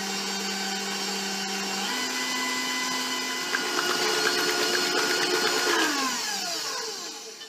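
An electric mixer whirs steadily through bran muffin batter with a bright motor whine. The pitch steps up partway through, and a clattering grind follows as the speed climbs, with no talking.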